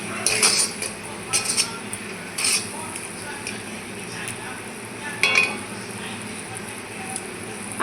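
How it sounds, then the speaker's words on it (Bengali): A spoon stirs sandesh mixture in a pan after cardamom powder is added, with a few sharp metallic clinks and scrapes at irregular intervals over a faint background hiss, close and fairly quiet. "আবারও ভালো করে মিলিয়ে নেব।"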